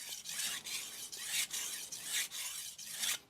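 A Yoshimitsu Hamono Aogami Super 180mm gyuto is pushed and pulled across a Shapton Kuromaku 1k whetstone in steady gritty rasping strokes, close up, continuous with brief breaks between passes, no voices.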